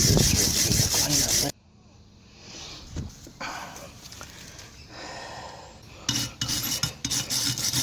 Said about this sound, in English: Just with the wire brush I do.